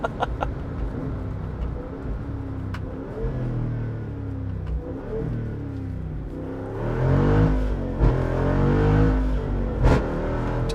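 A Jeep Wrangler 392 V8 with the Xtreme Recon Package, 35-inch tires and a 1.5-inch lift, rumbling along and then blipping loudly through downshifts, the engine note swelling and dropping near the end over steady road noise.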